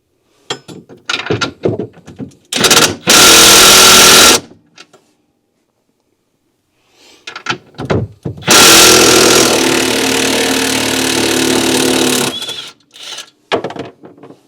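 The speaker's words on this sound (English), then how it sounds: "it's as simple as taking these two nuts off, these studs." A power tool removes the nuts from the studs on a RZR Turbo R. It runs in two loud, close bursts of whirring rattle, each with shorter taps around it and a quiet gap between them.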